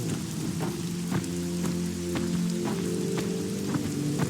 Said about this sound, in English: Lovely rain.